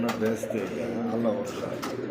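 Indonesian-colour pigeons coo in soft, throaty murmurs close by, the calls overlapping continuously while a person talks nearby.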